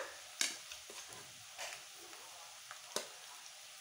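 Browned onions with garlic paste being stirred and fried in a pan, a faint sizzle broken by a few sharp scrapes and clinks of the spoon, no voices.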